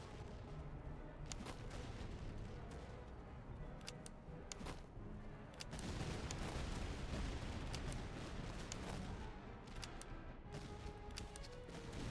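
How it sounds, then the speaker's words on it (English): A massed musket volley in the Napoleonic-era strategy game Master of Command, Russian campaign: dense, continuous crackling gunfire with scattered sharper reports, loudest mid-way, rolling on like a long battle fusillade. "Musketeers, give them a volley."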